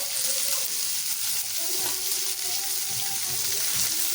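Tomato, green chili, onion and fenugreek sauté in a hot pan, producing a continuous, close sizzling hiss of moist frying with faint stirring underneath.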